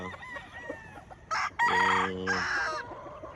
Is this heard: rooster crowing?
yes